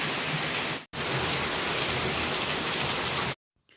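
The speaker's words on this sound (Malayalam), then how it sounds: "നല്ല അടിപൊളി മഴ നടന്നു നിൽക്കുകയാണ് കേട്ടോ രണ്ട് മൂന്ന് ദിവസം ഇവിടെ ഇങ്ങനെ മഴയാണ്" Heavy rain pours in a dense, loud, even hiss, briefly cut off near the start and ending abruptly.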